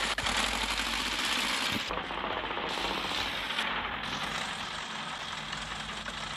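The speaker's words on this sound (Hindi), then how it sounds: "देख लो भाई कितनी स्पीड में भाग रहा है ट्रैक्टर को" A New Holland tractor in a 3D simulator video game runs at high speed, its engine a steady, loud, buzzing mechanical drone that holds throughout with no talking.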